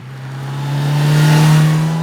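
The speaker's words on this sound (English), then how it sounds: "enough of that 4-cylinder turbine-like buzz in there to make you smile when you're riding it" A 2026 Kawasaki Z900RS SE motorcycle's four-cylinder engine gives a loud, close, turbine-like buzz that rises smoothly in pitch as it revs up, heard alone without speech.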